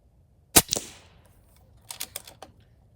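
An Air Venturi Avenger air rifle fires at small spinner targets at 50 yards: one sharp, close crack, then a quick faint metallic tick, and a brief cluster of light clinks about a second and a half later, with quiet in between.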